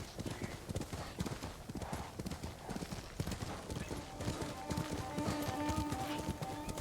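Horse hooves clip-clop steadily in a video game, a brisk run of close, even hoof beats that carries on for several seconds, with a few faint tonal game sounds layered in toward the end.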